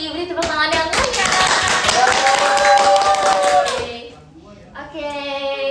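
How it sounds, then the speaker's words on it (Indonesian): Applause greets a student accounting association's general secretary arriving as a guest on a campus podcast: a short, dense burst of clapping with voices and music over it, fading after about four seconds before talk resumes. "Beri tepuk tangan yang meriah."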